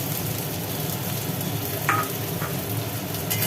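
Potatoes and onions fry together in oil in a pan, giving an even, continuous sizzle up close with a couple of faint stirring scrapes.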